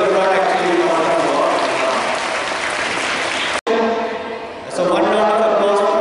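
An audience applauds scientists at an event, with loud, dense clapping that cuts off abruptly, then resumes and swells again toward the end.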